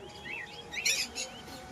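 Birds at a bird shop give a few quick chirps and tweets, a brief cluster near the middle of the moment, fairly close but not loud, over a low background murmur.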